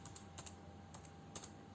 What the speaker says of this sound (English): then type